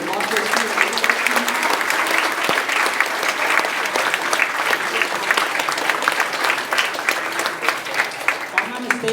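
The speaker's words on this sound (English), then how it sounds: "Give a big round of applause to the Rockwood Elementary." Crowd of students, teachers and parents applauding for Rockwood Elementary, a dense, sustained wash of clapping from a large audience that holds steady throughout, with some voices faintly mixed in.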